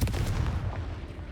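Confringo fire blast spell cast in Hogwarts Legacy, a loud booming burst at the start that rolls into a dense, rumbling low roar and fades over about a second.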